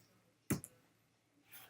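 One sharp computer mouse click, close and crisp, followed by a softer faint second tick and then near silence, with no talking.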